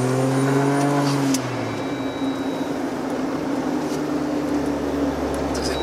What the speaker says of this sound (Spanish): Se oye la turbina